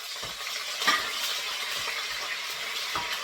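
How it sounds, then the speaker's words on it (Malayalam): Slit green chillies and curry leaves fry in hot coconut oil, giving a soft, steady sizzle with occasional stirring scrapes, close by and without talk. "ഇതിലേക്ക് ആദ്യം ഒരു 4 പച്ചമുളക് നെടുകെ കീറിയിട്ട് വറുത്തെടുക്കാം."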